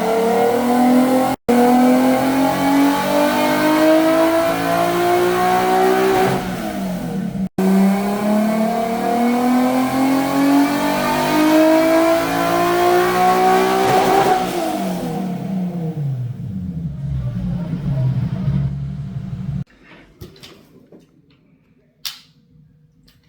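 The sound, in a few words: Toyota GR86 engine revving on dyno with E85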